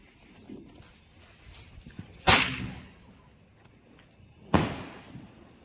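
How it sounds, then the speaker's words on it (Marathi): Diwali firecrackers set off at home give two sharp, loud blasts about two seconds apart, each with a short decaying tail, over quiet background noise. "दुसरा धमाक्यासाठी तयार."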